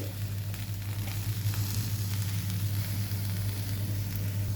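Okra (ladies finger) dry roasting in a pan sizzles in a steady, even crackle with a constant low hum beneath, no voices.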